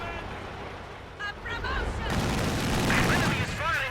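Enemy gunfire strikes a vehicle in a strategy war game, a dense rumbling barrage of shots and booms that swells in the second half. Voices and radio chatter are heard over it.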